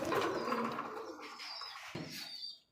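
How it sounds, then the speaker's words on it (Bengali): A single milky-coloured pigeon at a wholesale pigeon market, giving a soft, close cooing call that fades out after a couple of seconds. "সুপ্রিয় দর্শক দেখতে পাচ্ছি মিলি কালারের মধ্যে একটা সিঙ্গেল একটা কবুতর"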